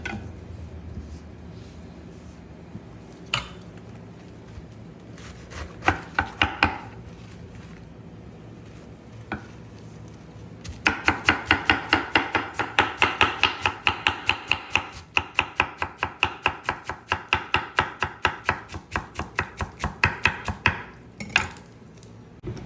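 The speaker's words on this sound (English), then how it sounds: "we're using the lettuce. Slice it also very thin." A knife slices lettuce thinly on a cutting board for a club sandwich, a few scattered cuts and then a long, fast, steady run of close, crisp chops.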